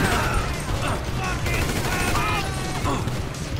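Dense rapid gunfire from the action game GTA 5 fills the scene as a continuous loud barrage of shots and bursts, with a voice talking over it.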